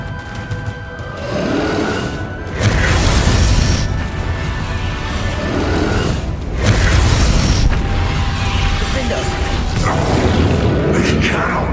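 Booming fire-spell explosions burst out in Hogwarts Legacy combat, loud and layered with rumbling impacts and a shouting voice over sustained battle noise.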